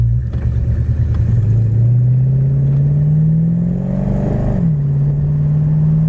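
A 1967 Dodge Coronet R/T convertible clone pulls hard from the cabin, its engine note rising steadily before dropping sharply as the transmission shifts up into third, then settling into a loud, even cruise.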